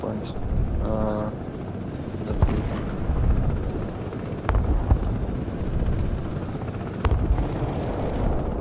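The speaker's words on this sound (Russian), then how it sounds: "Вертушки здесь." Helicopters arriving in the war strategy game Broken Arrow, a continuous rumbling rotor drone with wind-like roar and scattered distant impacts, under brief radio chatter.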